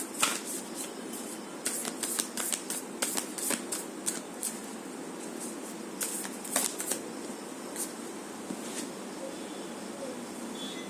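Tarot cards being shuffled by hand, a close, continuous papery riffling and slapping with crisp bursts throughout, no speech over it.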